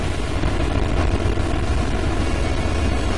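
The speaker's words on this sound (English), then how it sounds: "Oh god, it breathes fire." A robot in the video game Steven vs the World breathing fire: a loud, continuous, dense roaring rush that holds steady throughout with no pauses.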